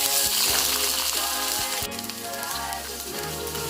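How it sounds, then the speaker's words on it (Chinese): Green and red peppers stir-frying in hot oil with garlic in a wok, a loud dense sizzle with occasional scraping stirs, easing slightly toward the end. "把青红椒先爆熟"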